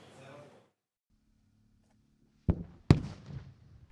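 Two sharp, loud bangs in quick succession after a brief hum, each followed by a crackling, rumbling decay: special-effect explosions on a film set; a voice is heard briefly at the start.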